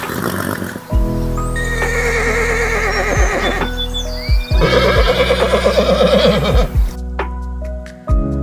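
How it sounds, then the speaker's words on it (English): Heavy, rhythmic hoofbeats of a horse galloping at full speed in the video game Ecos: La Brea pound close and loud, with a loud whinny cutting in partway through and a brief pause near the end. "this part is pretty much just showcasing how the horse gallops in full speed"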